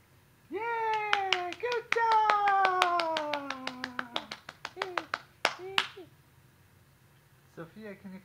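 Hands clap in a quick, regular rhythm, the sharp claps dense at first and then thinning out, under a gliding, sung melody with voices in a children's play-song setting.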